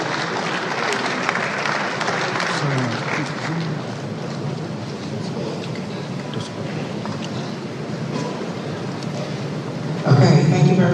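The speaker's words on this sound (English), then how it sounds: "you will applaud him now as he makes his way on stage" Audience applause at a stakeholder forum as a speaker walks on stage, a dense steady clatter of clapping filling the hall, growing louder near the end.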